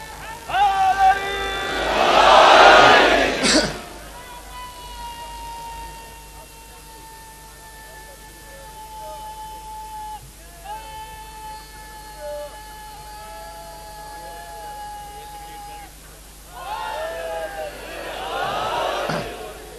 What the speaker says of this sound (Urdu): یہ نعرے اسی طرح لگتے رہے ہیں۔